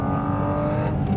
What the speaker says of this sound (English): Let's first talk about the engine because it utterly dominates the driving experience. Just listen to it.